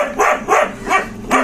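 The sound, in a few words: dog barking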